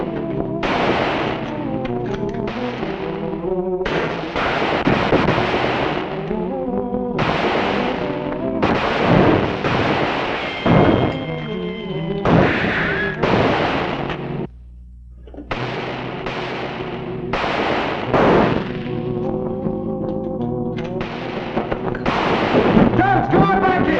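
Gunfire crackles during an outlaw siege in an old Western drama, with repeated loud shots and bursts spread throughout, mixed with raised voices and shouting.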